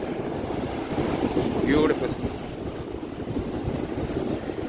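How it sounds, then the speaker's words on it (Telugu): Continuous rushing roar of fast-flowing river or stream water mixed with wind buffeting the microphone, and a faint voice briefly audible midway. "వాటర్ ఫ్లో మీరే చూడండి చాలా అంటే చాలా ఫ్లో అవుతుంది"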